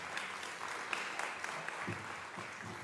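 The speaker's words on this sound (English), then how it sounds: "Give them a round of applause." A crowd gives a warm round of applause to welcome drummers at a talk on decolonisation, dense, even clapping held at a steady level for the whole stretch, heard from some distance and fairly soft.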